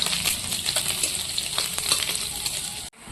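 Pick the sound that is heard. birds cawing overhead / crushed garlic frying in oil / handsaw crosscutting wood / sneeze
crushed garlic frying in oil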